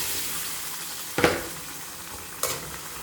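Onions and chana sizzle softly in a pan with turmeric for chana masala, a low steady frying hiss broken by two brief louder stirs.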